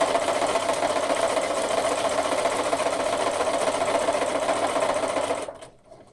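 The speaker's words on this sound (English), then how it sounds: "On your walking foot, it's got a little line here, and that is my 1/4 of an inch seam guide." Steady, fast whirring hum of a sewing machine running with a walking foot while stitching quilt binding, continuous for several seconds before winding down to a stop.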